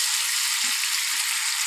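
Banana pieces frying lightly in a pan for a banana curry, a steady soft sizzle with a couple of faint low knocks, close and alone.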